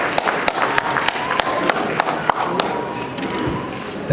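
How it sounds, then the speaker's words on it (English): Scattered clapping from an audience at a public lecture, with sharp individual claps standing out over a steady background murmur. "Please make him welcome with a round of applause"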